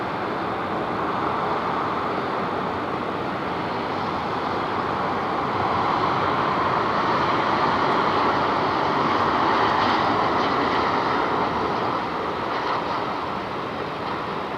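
A Toll freight aircraft taxis off the apron at Sydney Airport in the evening, its engines a steady, broad roar that holds at a fairly even level throughout, swelling slightly in the middle.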